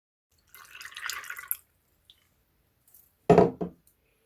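Warm water trickles into a bowl of about twenty fresh cashew nuts, a soft pour for about a second, then a short heavier splash after a quiet gap.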